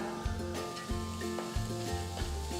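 Onions sauté with a handful of fresh coriander leaves in a pan, sizzling steadily while a spatula scrapes and tosses them in a regular rhythm, close and fairly loud.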